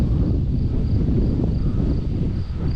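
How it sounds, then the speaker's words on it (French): Strong wind roars steadily into the microphone beside a fishing pond, a dense, continuous low rumble with no pauses and no voices. "Il y a beaucoup de vent."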